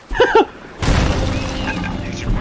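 A cannon shot strikes a ship in the pirate game Sea of Thieves, landing as a heavy booming crash with splintering noise that rolls on for a second or two, after a brief spoken exclamation.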